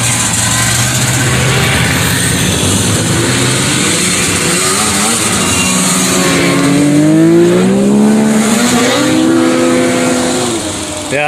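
Vintage snowmobiles, Panteras among them, roar past at a winter show in Newport Center, Vermont. The engines sound loud and close, with a steady two-stroke drone that rises in pitch as the sleds throttle up and pass.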